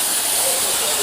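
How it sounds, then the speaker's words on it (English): Holding spray hissing onto a client's hair during styling, a close, continuous aerosol spray filling the short moment without a break. "And you just spray holding spray."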